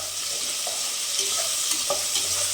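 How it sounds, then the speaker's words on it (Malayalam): Ginger, garlic and green chillies sauté in a pan for vegetable pulav, with a dense, steady sizzle and a few soft stirring knocks underneath. "ഇഞ്ചിയും വെളുത്തുള്ളിയും പച്ചമുളകും ഇട്ട് നന്നായിട്ട് വഴറ്റുന്നു"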